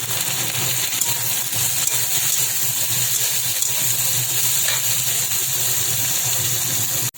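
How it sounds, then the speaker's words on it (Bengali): Shrimp frying in a pan for a village-style raw banana curry, a steady loud broadband sizzle and hiss that runs unbroken through the whole stretch, with no talk over it. "এটা ভাজা হতে হতে এর মধ্যে আমি চিংড়ি মাছগুলো দিয়ে দিচ্ছি। চিংড়ি মাছগুলো একটু ভাজা হয়ে যাবে।"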